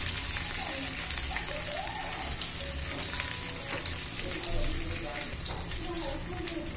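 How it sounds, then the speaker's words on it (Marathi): Moong dal cutlets with sesame seeds shallow fry in a pan, giving a continuous bright sizzle and crackle that holds steady from start to finish, close and fairly loud. "छान असे परतून घेऊ, चांगले असे शालो फ्राय करून घेऊया."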